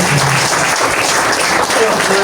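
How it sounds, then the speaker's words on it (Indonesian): Loud, dense audience applause at an Indonesian church community charity gathering, steady clapping filling the whole moment with a few voices mixed into the crowd noise. "Tepuk tangan dulu yang meriah"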